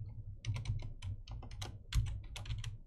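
Code is typed on a computer keyboard in a Unity project, with a steady stream of close, crisp key clicks in quick irregular bursts, heard alone.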